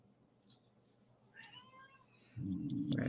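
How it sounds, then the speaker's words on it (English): A house cat meows in a series of faint, high-pitched cries in a workshop while a model is being painted, then a louder low rumble of movement or handling takes over near the end. "Sounds like Puddy Cat's not happy."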